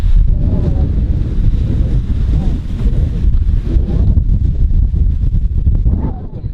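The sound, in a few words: strong wind on the coast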